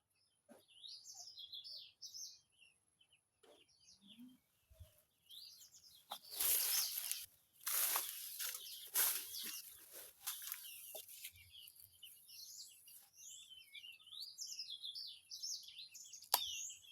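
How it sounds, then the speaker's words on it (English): Birds chirp and call around a quiet village, with a rooster's crowing and clucking fowl mixed among the small birdsong, fairly close and clear with no talking. "So in the village, you can only hear sounds of birds singing."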